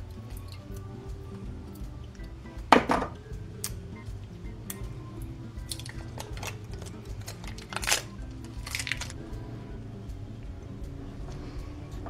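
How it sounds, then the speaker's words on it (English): Plastic casing being pried and pulled off a battery, quiet creaks with a couple of sharp cracking snaps and scattered small ticks over a low background hum. "At first, it is absolutely necessary to remove plastic casing."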